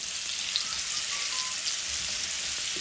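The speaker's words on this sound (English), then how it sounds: "as soon as it starts to sizzle like that, it's like, okay, the pan's hot enough" Shrimp sizzling in a hot frying pan while blackened shrimp is cooked, a steady, close crackling hiss throughout with no talk.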